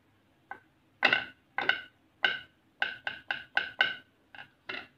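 Hard bone tapped by hand, giving a string of about eleven short, dry knocks in an uneven rhythm, close and fairly faint, with no talk over them.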